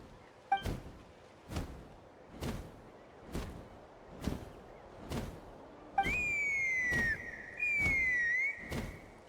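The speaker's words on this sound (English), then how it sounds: "That sounded like a whistle." A whistle sounds in the video game Genshin Impact, two long, bright, sliding tones heard over a steady series of thumping whooshes, fairly faint and without talk.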